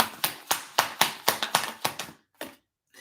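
Hand clapping: about a dozen sharp, close claps in a quick, slightly uneven rhythm, trailing off into a few last scattered claps.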